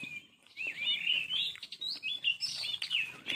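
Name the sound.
birds chirping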